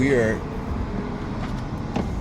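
Low road rumble fills the inside of a car stuck in traffic, heard from the dashboard, with a voice briefly at the very start.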